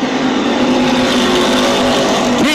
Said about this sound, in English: Oh, gaggle of cars now as they come out at turn number four.